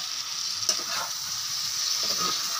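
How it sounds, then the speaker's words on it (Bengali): Chicken meat frying in a pan while being cooked down for a rice and lentil dish, a steady close sizzle with a brief sharp clink near the start and soft stirring scrapes, no voices. "আর একটু ভাজা ভাজা হোক, আর এখানে মাংসটাও আর একটু কষা হোক"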